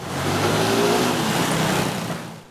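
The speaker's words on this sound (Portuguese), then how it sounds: "O barulho de um lugar feito para silenciar. Escapamento alterado é o canal de ruído excessivo." Loud modified motorcycle exhaust with an altered muffler, a steady revving engine roar that holds strong throughout and fades slightly at the end.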